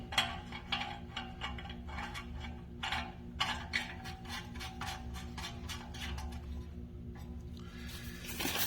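A ratchet screws a part into the exhaust bung of a 2021-25 Kawasaki Ninja ZX-10R motorcycle, giving rapid rhythmic clicking in repeated bursts with short pauses, close and fairly quiet, no talking.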